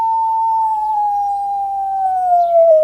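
A single wolf howls in one long, steady, clear note that sags slightly in pitch toward the end, close and loud, with no talk around it.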